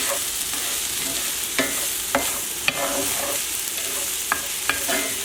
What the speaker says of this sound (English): So, with your wooden spoon, mix things around.